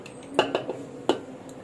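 Rice tipped into a cooking pot over masala for a Hyderabadi chicken dum biryani, heard as a few faint clinks and scrapes of utensil against metal, quiet and sparse with no voices.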